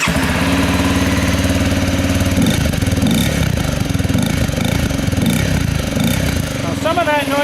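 A Honda CRF250L motorcycle with a modified, drilled exhaust and airbox idles after startup, a loud, steady, close thumping putter that roughens midway, with a faint squealing tone near the end.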